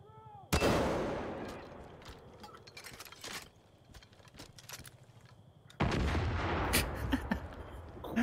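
Gunfire in the video game Far Cry 5: two loud, sharp blasts with long ringing decays, separated by a stretch of scattered smaller shots and clatter.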